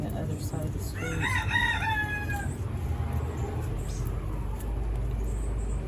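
A rooster crows once, a loud drawn-out call with a rising then falling tail, over a steady low outdoor rumble.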